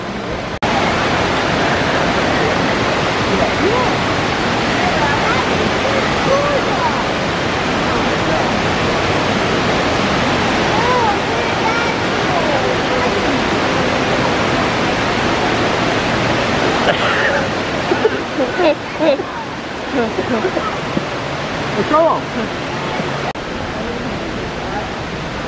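A steady, close rush of falling water from an indoor waterfall at Gaylord Opryland in Nashville fills the whole stretch, with faint voices and footsteps in the background.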